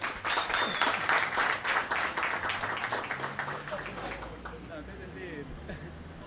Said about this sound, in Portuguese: Senhoras e senhores, aplausos para Sargento Apito.